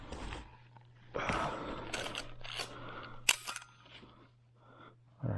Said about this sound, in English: that's the slow shutter speed,